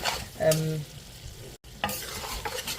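Wild boar fry is stirred in a pan, bursts of sizzling and spatula scraping close by, with a short silent break midway before the stirring resumes.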